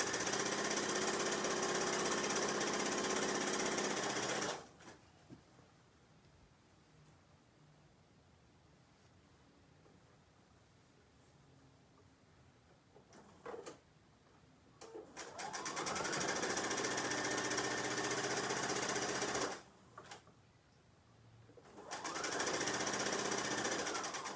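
A sewing machine stitches the crotch seam of a classic pajama pant, running in three loud, close, steady bursts of rapid whirring separated by quieter pauses.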